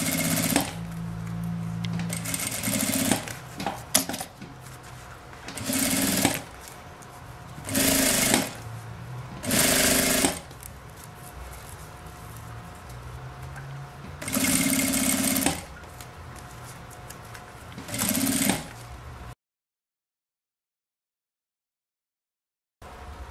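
A sewing machine stitches a zippered toiletry pouch in short, loud, steady runs of rapid needle chatter separated by quiet pauses, ending in silence.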